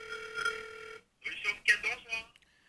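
A telephone call rings out with a steady tone held for about a second, then breaks into warbling, chirpy ring bursts that stop short, recorded fairly close with no voices.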